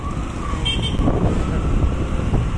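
Dense, heavy road traffic with a steady low rumble of engines, with short car horn toots sounding through the middle.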